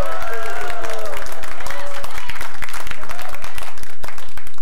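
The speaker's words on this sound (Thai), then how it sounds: "ขอเสียงปรบมือด้วยครับ" Loud, steady audience applause fills a stand-up comedy show, dense clapping with a few cheers, while a performer's voice talks over it.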